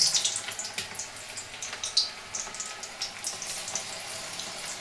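Tap water runs steadily into a sink while hands are rinsed under it, a soft close hiss broken by small splashes and irregular spatter, with no voices.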